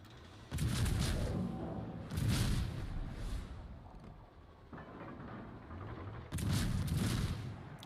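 Heavy naval gun salvos from a Seattle tier 9 American light cruiser firing on a Kerr destroyer in World of Warships, three loud booming volleys with rolling rumble between them, no talking.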